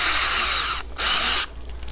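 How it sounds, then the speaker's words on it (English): A 9/32-inch drill bit bores holes into a 5-gallon bucket, heard as two loud, close bursts of whining drilling with a short pause between them and a quieter tail afterward. "right where we've marked our two spots, we're just gonna drill in our holes"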